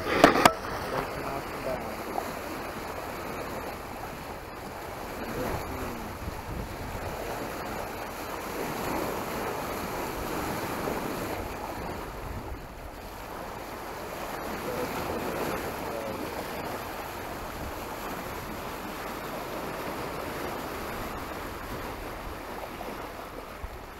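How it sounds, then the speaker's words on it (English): Waves slosh around a sailboat on an offshore passage from Fort Lauderdale to Sarasota, a soft continuous wash swelling and easing in slow surges, with wind rumble on the microphone. "a sound machine back at when I lived in a house that made the very noise that was being made by the waves here"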